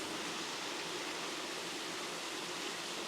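A small waterfall pours in a steady, unbroken hiss of falling water, soft and fairly distant, with no other sounds.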